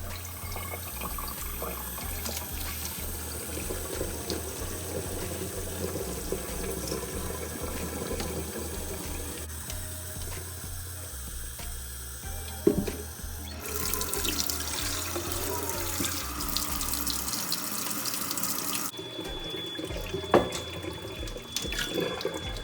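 Water running steadily from a kitchen sink tap while rice is rinsed, a continuous close splashing stream whose tone shifts partway through, ending with a few clatters and no talk.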